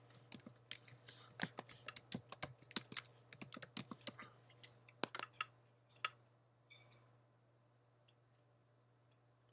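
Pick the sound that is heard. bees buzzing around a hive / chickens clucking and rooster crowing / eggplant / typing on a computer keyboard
typing on a computer keyboard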